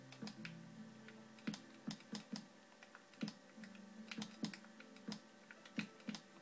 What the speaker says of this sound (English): Sorry for all the clicking if you hear it. It's my obviously my Xbox controller.